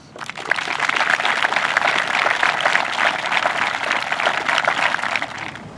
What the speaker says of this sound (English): Please join me as we honor this group with a round of applause.